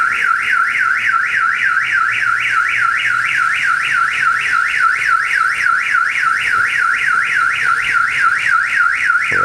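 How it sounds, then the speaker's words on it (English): Car alarm going off nearby after a truck paint job, a loud, steady warbling siren that sweeps up and down in rapid regular cycles and runs without a break. "there go the alarm."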